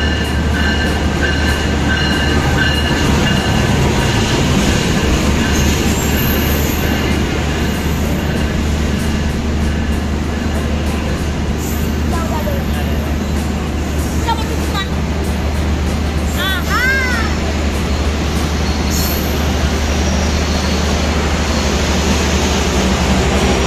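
Jayabaya passenger train in economy class rolling steadily over the rails, a loud continuous rumble with low drone, occasional wheel squeals and clicks, faint voices in the carriage.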